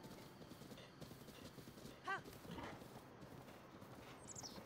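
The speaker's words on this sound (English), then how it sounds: "This might be a decent horse." Horse hooves clip-clop at a steady walking pace in The Legend of Zelda, moderately close, with a brief whinny-like call and faint game ambience underneath.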